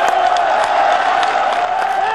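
Massed street protesters shouting during the 1987 June Democratic Struggle in South Korea, calling to overthrow the dictatorship; a dense, continuous roar of many voices with scattered whoops and cheers, loud and unbroken throughout.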